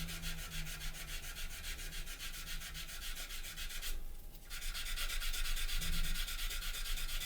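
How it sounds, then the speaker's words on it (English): Clear plastic scale-model part sanded by hand, a steady close rubbing scrape running continuously with a short quieter break partway through, no voices. "So we can just give this a nice little sand."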